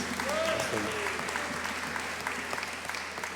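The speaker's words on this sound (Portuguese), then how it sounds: "Vamos aplaudir o Senhor." Congregation applauding in church, sustained clapping from many people at moderate volume, with a voice briefly heard over it near the start.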